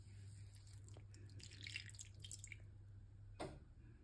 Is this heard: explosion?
no